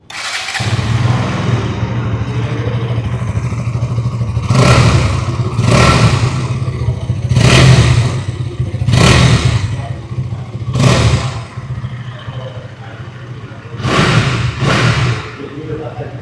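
A 2026 KTM Duke 200 idles with a steady low thrum, broken by six sharp throttle blips that rise and fall in quick bursts, close and loud.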